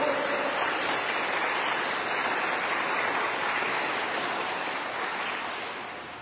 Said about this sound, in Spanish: Y por eso hay que dar un aplauso grandísimo.